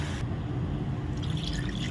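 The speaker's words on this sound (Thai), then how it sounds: "เติมน้ำเพิ่มไปครับ" Water pouring into a cooking pot of Northern Thai chicken and winter melon curry, a steady gush shifting into brighter splashing and trickling toward the end.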